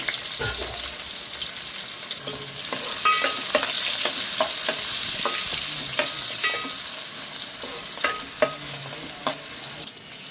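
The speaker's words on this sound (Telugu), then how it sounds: "మీడియం సైజ్ ఆనియన్స్ కట్ చేసుకుని వేసేసుకుంటున్నాము. అలాగే 2 పచ్చిమిర్చి కట్ చేసి వేసుకున్నాము. ఇవి కొంచెం ఫ్రై చేసుకోవాలి." Sliced medium onions and two chopped green chillies fry in a pan, producing a loud, steady sizzle broken by frequent clicks and scrapes of a stirring spoon, with no voices.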